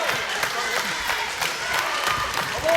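Wrestling fans at an anniversary show clap along in rhythm, a roomy crowd of claps with a loose steady beat, heard under a commentator's excited voice.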